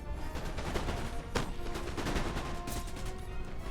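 Musket volley fire in the Total War: Napoleon video game: a dense crackling fusillade of overlapping distant shots, steady and continuous, with one sharper report standing out midway, no talking.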